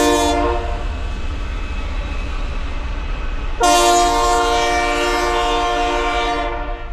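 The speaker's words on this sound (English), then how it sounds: "Here comes the train." A train's horn blares loud and close, cutting out briefly and then sounding again in a long sustained blast over the steady rumble of the passing cars.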